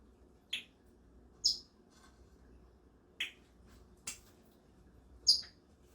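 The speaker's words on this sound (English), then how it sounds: "here's the little chicken bird" A small pet bird gives five short, bright chirps spaced a second or so apart. The chirps are close but fairly soft in an otherwise quiet room.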